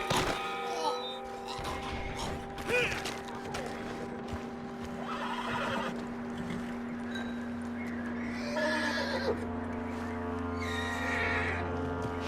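A horse in the video game Red Dead Redemption 2 whinnies and snorts with some hoof clops and thuds, set against a steady low drone, moderately quiet and spread across the scene.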